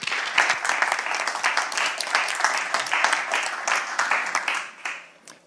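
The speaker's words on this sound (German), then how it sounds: "Bitte eine schöne Runde Applaus" An audience applauds a speaker at a German talk, with dense, steady clapping that holds for about four seconds and then fades out toward the end.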